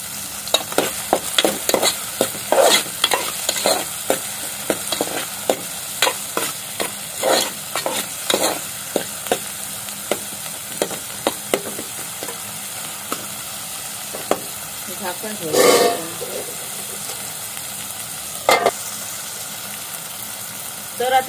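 Tomatoes sizzle in a pan for a Malvani-style squid curry, with a spoon scraping and stirring in quick, repeated strokes over a steady, close frying hiss.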